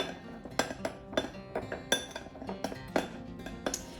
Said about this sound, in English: we're just gonna give that a little bit of a stir.